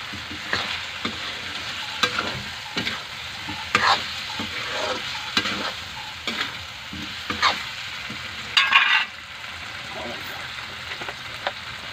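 Red spice powder and tomato are stirred into a sizzling frying pan, with repeated scraping strokes of a spatula over a soft, steady frying hiss, moderately loud and close.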